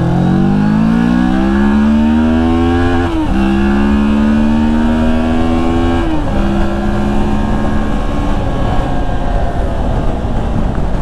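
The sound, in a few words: Moto Morini X-Cape 650 motorcycle being ridden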